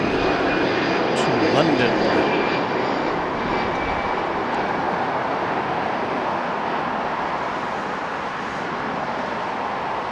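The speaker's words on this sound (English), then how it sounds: "you're hearing that American plane going up" An American airliner takes off from Los Angeles International Airport with a loud, steady jet roar that holds for the whole stretch, while a voice talks over it.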